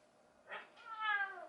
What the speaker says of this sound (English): My cat also hates Shannon.